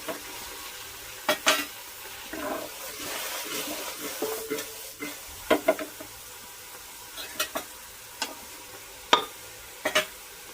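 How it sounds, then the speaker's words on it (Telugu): A spoon stirs and mixes food in a pan, sharp scraping clinks coming in irregular bursts over a faint sizzle, close and fairly loud, with no talking. "ఇప్పుడు కలిపేసుకుంటాం బాగా"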